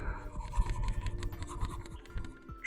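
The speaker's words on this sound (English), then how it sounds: "I'm like wiping away the drawing that I did." Light rubbing and scraping on the surface of a carved fruit as a drawing is wiped away, a soft, close series of short irregular strokes over a few seconds.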